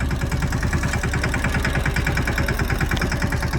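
A tractor engine idles steadily on a farm where sorghum is being harvested, a loud, close, even low rumble with a regular throbbing pulse and no talking throughout.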